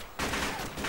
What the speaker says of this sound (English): Shots fired from the northeast.